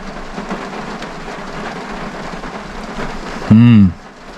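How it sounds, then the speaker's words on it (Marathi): Steady light monsoon rain hisses throughout in Poladpur, Konkan, then a loud low horn-like blast cuts in near the end before fading. "पाऊस पडतो हलका हलका"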